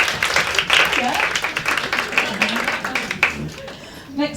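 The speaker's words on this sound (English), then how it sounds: "So can we get a round of applause for Lucy?" Audience applause for Lucy, an author, at a breakfast panel discussion, a few seconds of scattered clapping that thins out toward the end, with voices mixed in.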